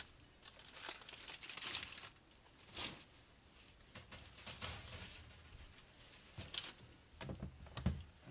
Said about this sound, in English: let's take them out and unwrap them and see what we have